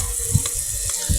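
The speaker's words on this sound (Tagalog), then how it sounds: "sinalang ko na ang kamatis at sibuyas" Tomato and onion sauté in a cooking pot with a steady, close sizzle and a couple of soft knocks, short and unbroken by speech.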